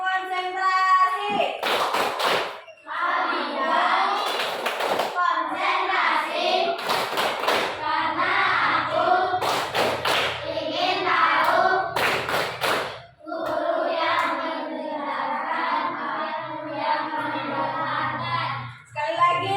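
Schoolchildren in a classroom clap out a rhythmic concentration routine, crisp bursts of hand claps in a set pattern between loud stretches of children chanting and talking together.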